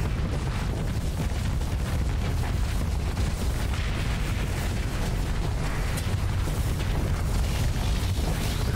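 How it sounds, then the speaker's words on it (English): A space station exploding in the space-combat game Starsector, heard as a dense, continuous roar of overlapping booms and rumbling blasts that stays loud and steady throughout with no pauses. "Look at that station being destroyed."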